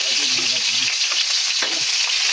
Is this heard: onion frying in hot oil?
yes